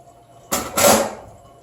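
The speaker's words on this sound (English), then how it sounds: "Dump that out in the handle. Dump out our water." Water from a backflushed Rocket espresso machine is dumped out of the portafilter handle, a short splashing gush in two quick bursts close up in a quiet room.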